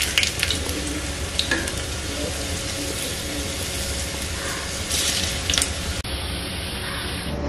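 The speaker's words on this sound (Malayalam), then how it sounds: "ഇതിന്റെ ഒരു ഭാഗം ഫ്രൈ ആയി ഇനി നമുക്ക് മറിച്ചിടാം" A snack fries in hot oil, giving a steady, loud, continuous sizzle with occasional clinks and scrapes as pieces are turned over in the pan.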